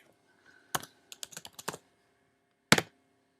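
Computer keyboard keys typed in short bursts of separate clicks, a quick cluster followed after a pause by one final louder keystroke, heard alone in a quiet room.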